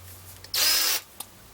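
A power tool polishing a ring made from a silver spoon gives a single bright half-second whir, starting and stopping abruptly amid quiet.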